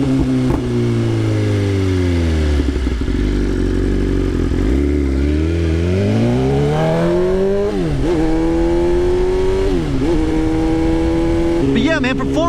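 A 2024 BMW S1000RR superbike engine revs loudly and close up, its pitch climbing and falling through several sweeping throttle blips over a constant idle roar.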